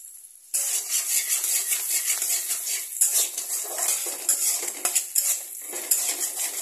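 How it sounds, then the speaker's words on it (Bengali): A metal spoon scrapes and clatters steadily against a pan while chopped onion and fenugreek seeds are stirred in oil. The scraping is close and continuous, with a faint sizzle underneath. "এটাকে এই দুটোকে একসঙ্গে ভালো করে মিশিয়ে নেব"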